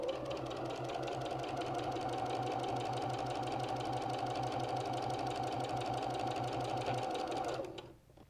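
Sewing machine joining quilt blocks for a wall hanging, a fast, even mechanical chatter running close and steady for about seven seconds before winding down and stopping.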